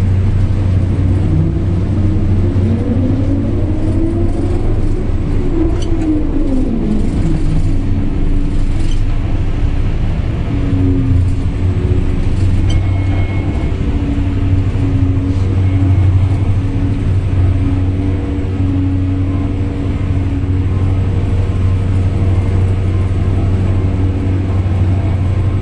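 Heavy truck hauling an oversized load for a major moving job, its deep engine drone steady and loud for the whole stretch, with a whining gear tone rising and falling early on, no talking over it.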